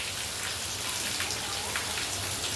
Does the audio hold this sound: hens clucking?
no